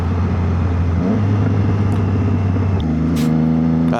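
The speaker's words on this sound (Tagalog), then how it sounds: "with the quick shifter, you just let go of the throttle and then" Triumph Trident 660 motorcycle downshifting with a quickshifter as the rider lets off the throttle. A steady engine drone drops in pitch in two clear steps, loud and close, with no talk over it.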